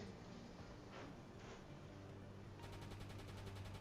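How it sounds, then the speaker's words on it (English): Rapid gunfire in a World War II campaign game, a steady, faint, distant stream of shots running through the whole stretch with no talk. "Now he's shooting."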